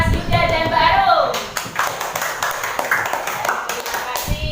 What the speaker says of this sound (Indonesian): Beri tepuk tangan yang meriah untuk Mas Yuda dan Mbak Arum.